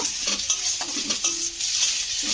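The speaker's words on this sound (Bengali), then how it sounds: "কাঁচা লঙ্কা বাটা দিয়ে এবারে একটু মিশিয়ে নেব" Ginger, garlic and green chili paste being stirred as it fries in oil, a continuous soft sizzle with intermittent scraping strokes of a spoon against the pan, close and steady, with no talking.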